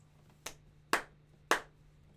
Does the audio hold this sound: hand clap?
yes